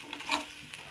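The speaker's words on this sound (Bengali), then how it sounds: "এখন এই মশলার জলটা যতক্ষণ না শুকিয়ে যাচ্ছে, কাঁচা রসুনের গন্ধটা যতক্ষণ না চলে যাচ্ছে, ততক্ষণ অবধি খুব ভালোভাবে কষিয়ে নেব" Spice paste of coriander, cumin, ginger, green and dried red chilli, garlic and onion being sautéed and stirred in a pan, a soft close sizzle with scraping stir strokes.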